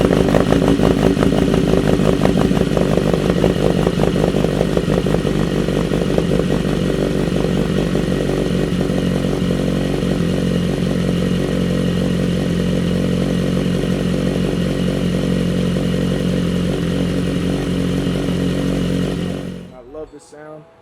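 A BMW S1000RR motorcycle with an M4 exhaust fires up from cold and idles with a loud, rough, close-miked rumble. It stays steady for most of the time, then cuts off abruptly near the end.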